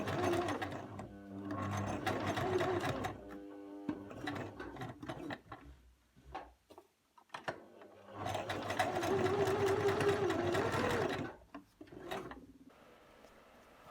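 A sewing machine stitches a skirt seam in rapid bursts, a close mechanical whirring rattle that runs for a couple of seconds, pauses with scattered clicks, then runs again.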